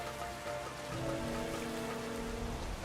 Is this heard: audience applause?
no